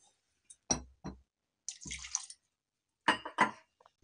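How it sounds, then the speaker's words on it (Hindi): Water splashes into a blender jar in several short pours and drips, with quiet gaps between them. "अब मैं इसी मिक्सी के जार में थोड़ा सा पानी डाल दूंगी।"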